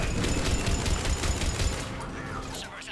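Gunfire from a Cerberus checkpoint firefight in Mass Effect 3, a dense, continuous rattle of rapid shots running for about two seconds before thinning out, with faint voices underneath.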